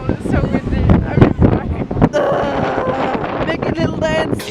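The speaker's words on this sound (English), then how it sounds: "It's so cold, it's so windy." Gusty wind buffets the microphone in loud bursts while a person talks over it outdoors on a cold day on Bornholm.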